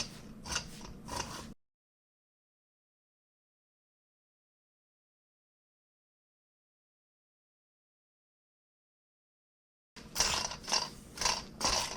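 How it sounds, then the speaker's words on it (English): A hand-held pastry cutter works through dough for a cheese casserole bread, blending it until crumbly: short bursts of rhythmic metallic clicking and scraping, close by, separated by a long stretch of silence. "I'm going to use this pastry cutter and I'm going to blend it until it's crumbly"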